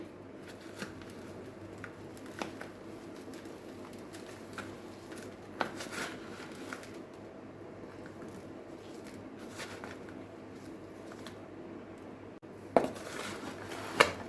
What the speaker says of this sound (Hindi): अब इन सब चीज़ों को मिक्स कर लें।